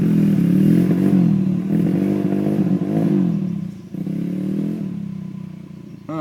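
Dirt bike engine on a riding course, a steady droning motor with rising and falling revs and a rattly mechanical clatter, loud and close throughout with no speech.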